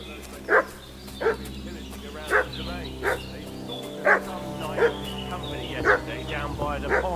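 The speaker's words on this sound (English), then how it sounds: "What's that dog making such a fuss about?" A dog barks repeatedly in the medieval video game Kingdom Come, about eight evenly spaced woofs over steady background ambience and a low hum, moderately distant and clear.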